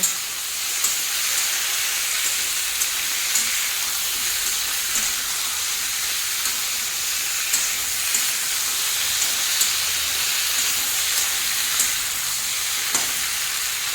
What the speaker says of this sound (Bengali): ভালো করে নাড়িয়ে ভেজে নিচ্ছি।